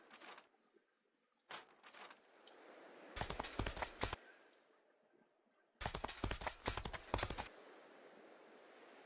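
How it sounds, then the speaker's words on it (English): Horse hooves galloping in the video game Expeditions: Conquistador, heard as two loud bursts of rapid clattering beats separated by quieter gaps, with a few brief clicks before them. "Oh, look at that horse go."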